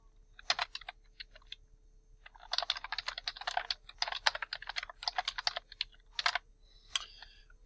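Quick bursts of clicking keystrokes on a computer keyboard while entering a workshop name, with short pauses between clusters of typing, close and fairly quiet.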